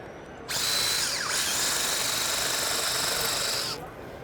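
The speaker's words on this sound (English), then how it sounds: "This is a double cut model, great for long straight cuts, as you can see." A Malco TSMD1 double-cut drill attachment slices through 18 gauge metal in one loud, continuous, high whining burst of about three seconds, starting and stopping abruptly, heard up close.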